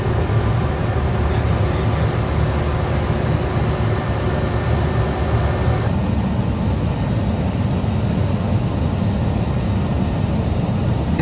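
An airliner taxiing toward the runway, heard from inside the cockpit, gives a steady, even engine and cabin hum that continues unchanged throughout.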